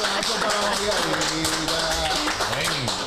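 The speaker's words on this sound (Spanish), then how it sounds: "Bienvenida, aplausos señores." Audience applause welcoming a panelist on a Spanish-language discussion panel: a steady wash of clapping runs throughout, fairly loud, with a voice talking over it.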